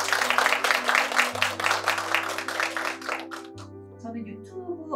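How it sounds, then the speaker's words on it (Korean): An audience at a parenting lecture event claps to welcome the first speaker, a dense wash of applause over steady background music that thins out after about three seconds. "모두 큰 박수로 맞이해주시기 바랍니다"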